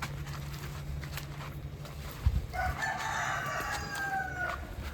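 Farm rooster crows once, fairly distant and faint, a drawn-out call rising over low outdoor background noise after a brief thump.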